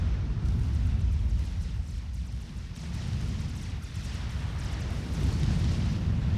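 Tech 1 artillery in the strategy game Forged Alliance pounds a Tech 2 power base, a steady deep rumble of heavy low booms rolling on continuously with no clear gaps.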